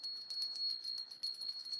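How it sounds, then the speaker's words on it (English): A small ritual bell, rung with rapid repeated strikes, keeps a sustained bright, high ring; faint and heard alone. "One of my favorite little micro rituals is doing this chant with the bell."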